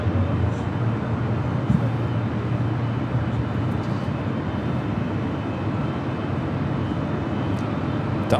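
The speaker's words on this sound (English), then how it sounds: "Delta 767 300 ER now pushing back." A Delta 767-300ER airliner pushing back at LAX airport, heard as a steady, loud, broadband jet-engine roar with a constant low rumble and no distinct events.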